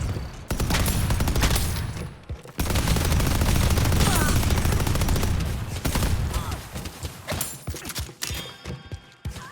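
Automated turrets firing in a hero shooter battle give a dense, loud stream of rapid gunshots that later breaks into scattered bursts, mixed with other combat noise.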